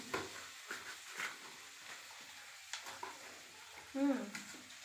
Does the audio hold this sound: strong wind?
no